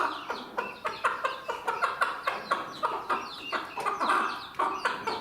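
A guinea fowl hen calls repeatedly while showing her chick where the food is, a rapid series of harsh, grating cackles, fairly close and moderately loud, with no talking.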